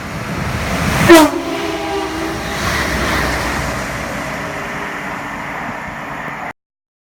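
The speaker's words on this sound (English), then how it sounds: "the first train to kick off today is a London North Western Railway service going towards Crewe, Manchester" A London Northwestern Railway passenger train heads toward Crewe and Manchester at Longport, with a short horn blast near the start followed by a steady, fairly loud rolling rumble of wheels that continues until the sound cuts off.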